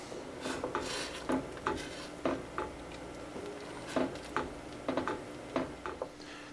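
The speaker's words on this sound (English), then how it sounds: "we're going to make sure that's stirred in well." A utensil scrapes and clinks against a pot in irregular strokes, stirring romano cheese into simmering pasta e fagioli soup, with soft stirring sounds and a low simmering hum underneath.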